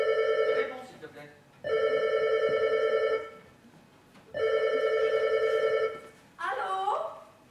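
A telephone rings in a French household, two long electronic bursts with a pause between them, then a third shorter ring, loud and close.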